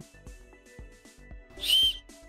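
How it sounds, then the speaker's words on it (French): One short, shrill blast from a small ridged-tube emergency whistle cuts over a soft, steady rhythmic beat. "des petits tubes striés qui font office de sifflets d'urgence"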